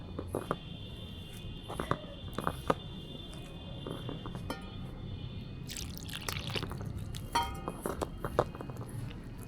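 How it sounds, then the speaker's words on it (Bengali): Gram flour batter stirred with small additions of water for mushroom pakoras, producing soft wet squelches and light drips up close, with scattered clicks of utensils against a bowl. "অল্প অল্প পানি দিয়ে বেসনটা গুলে নেব।"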